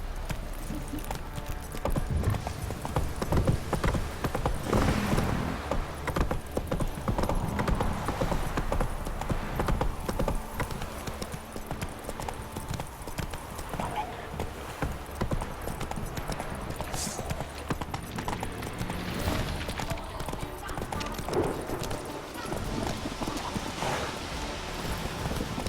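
Horse hooves clip-clopping at a steady galloping rhythm in The Witcher 3 video game, continuous and close for the whole stretch with game ambience underneath and brief faint voices at times.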